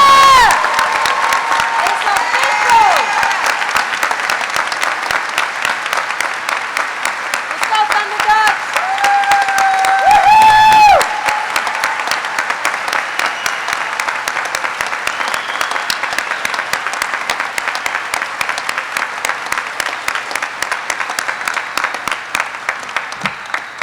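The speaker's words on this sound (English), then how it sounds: "Please join me in a round of applause for these outstanding warrant officers" Loud applause and cheering from a crowd at an Army warrant officer candidate class graduation ceremony, with whoops and a few shouted calls rising above the clapping midway before it settles into steady, sustained applause.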